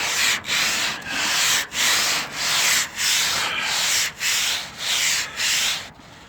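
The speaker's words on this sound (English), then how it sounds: "not just sanding the loose paint off" Coarse sandpaper scrapes back and forth over car paint in about ten long, rhythmic strokes, loud and close, with brief pauses between passes.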